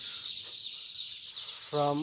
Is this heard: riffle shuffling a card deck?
no